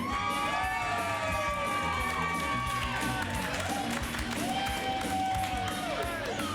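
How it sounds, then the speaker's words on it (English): A loud, steady crowd roars and cheers with scattered whoops and clapping, filling the room continuously for a host being welcomed at a live Friday Night Fights show. "Make some noise! Please keep that noise going for our host, Mike Ramey!"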